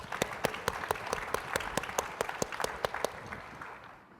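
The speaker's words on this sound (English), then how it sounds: "A round of applause." An audience claps for tribal nation panel members at a panel event: a short burst of crisp, distinct claps that thins out and fades within a few seconds.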